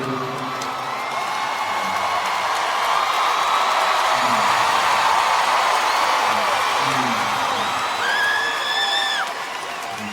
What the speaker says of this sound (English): how angry it makes me when Ryan gets the most applause out of the three of us